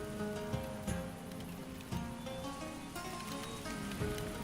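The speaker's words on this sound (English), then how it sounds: "Now it's currently raining." Steady rain falls in the video game Of Life and Land, a continuous hiss of drops on surfaces with occasional soft taps, under a faint tonal game backdrop.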